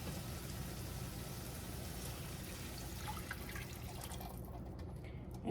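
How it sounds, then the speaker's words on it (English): Water poured into a pan of stirred, orange-tinted rice for Spanish rice, a steady close rush and trickle of liquid that thins out near the end. "Now I'm going to add my water to it"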